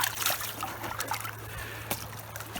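Brief splashing and sloshing of water close by as a fish is released back in, with small splatters and drips over a steady low hum.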